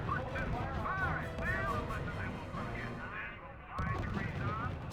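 Artillery and gunfire in the strategy video game RUSE, with repeated booms and shots rumbling under radio-style voices giving combat orders, dense and continuous throughout.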